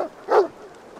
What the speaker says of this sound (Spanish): ¡Buen perro! ¡Sigue su rastro!